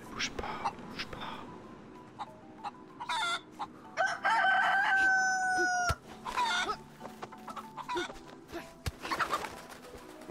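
Chickens cluck and a rooster crows inside the video game DayZ, with several bursts of clucking and a drawn-out crow amid game ambience, loud and fairly close.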